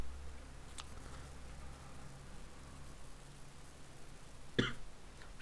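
A light cough with a short, sharp burst standing out against a quiet, steady background hum, plus a fainter click earlier.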